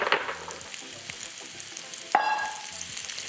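Onions fry in bacon grease over a medium-low flame, a soft, even sizzle with scattered stirring scrapes and a sharp metallic clank partway through, close by and without talk.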